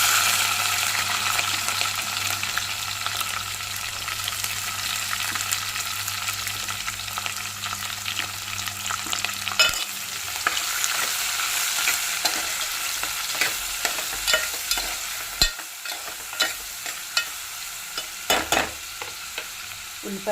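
Onions and green chillies fry in hot oil for an aubergine curry, a dense close sizzle with stirring and scraping throughout, with sharper clattering stirs in the second half.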